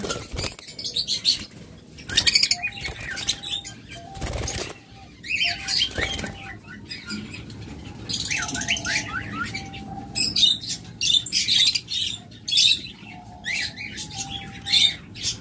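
A breeding pair of caged pet birds chirps and squawks in short bursts, with repeated brisk wing-flapping and fluttering heard close and fairly loud.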